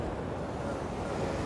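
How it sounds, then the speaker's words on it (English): Ocean waves washing onto a beach, a steady loud wash of surf mixed with wind buffeting the microphone. "if you can hear me with these waves"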